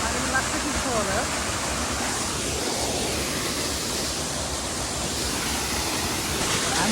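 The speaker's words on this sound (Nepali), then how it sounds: "यस्तो छ झर्ना है यहाँ त यस्तो चिसो पानी छ यार" Cold water tumbles down a waterfall, producing a loud, constant rushing wash of splashing water that fills the whole stretch.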